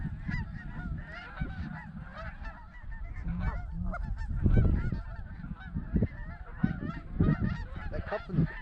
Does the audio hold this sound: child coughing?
no